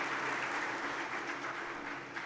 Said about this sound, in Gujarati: ભાવનાબેનને આપણે વધુ જોરદાર તાળીથી વધાવવા છીએ